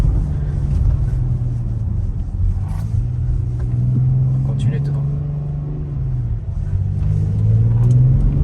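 A BMW X5 M50d diesel SUV, 400 hp and 760 Nm, growls and revs up in sport mode with a throaty rumble while people talk over it inside the cabin.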